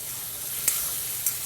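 Onion-tomato paste sizzles in hot oil with mustard seeds, cumin and asafoetida, a steady soft hiss broken by two brief crackles, alone and fairly quiet.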